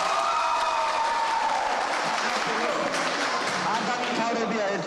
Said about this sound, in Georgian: განმეორებითი ტაში ნაფიცების ერთსულოვნებას